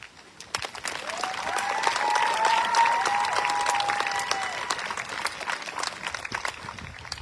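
A community college commencement crowd breaks into sustained applause, dense clapping rising to a peak mid-way with a cheering voice on top, then tapering slightly.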